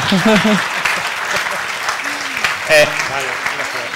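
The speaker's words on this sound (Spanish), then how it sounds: "Un aplauso" Applause from a crowd at a talk on the video game industry fills the space while people talk over it.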